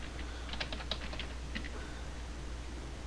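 A computer keyboard is typed on in a quick run of light, close keystrokes while entering a Windows or Linux command, followed by a couple of isolated taps over a faint steady hum.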